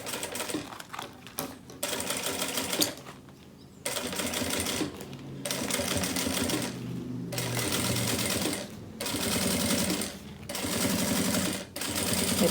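A sewing machine stitches a plastic canvas beach bag in loud, close bursts of rapid mechanical chatter, several runs of a second or two each broken by brief pauses as the work is repositioned.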